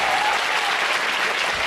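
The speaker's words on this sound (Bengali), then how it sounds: "ওর জন্য একটা করতালি দাও।" An audience at a Bengali language competition applauds a student with dense, continuous clapping from a full crowd, steady and loud throughout.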